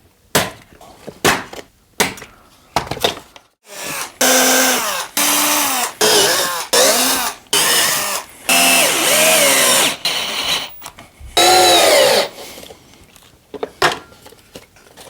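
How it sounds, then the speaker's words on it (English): A power drill whirs in several bursts, driving screws into laminated wooden sailboat frames with a rising, straining pitch, separated by short pauses and clicks of handling. "Let's try to drill those in first."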